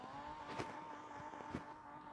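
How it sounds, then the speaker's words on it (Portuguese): A Toyota Supra in a video game accelerates with a steady, fairly quiet engine drone and a couple of short bursts over it. "Mano do céu, deixa eu acelerar."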